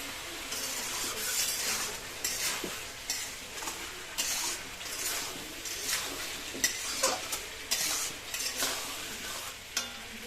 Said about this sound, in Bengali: চলুন তাহলে আমরা এটাকে ভালো করে কষিয়ে নিই